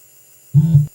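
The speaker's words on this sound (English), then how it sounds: "That's the sound of the floppy disk drive." A short, loud low-pitched mechanical whir from an emulated Amstrad CPC floppy disk drive lasts under half a second, rising abruptly from near silence and cutting off just as suddenly.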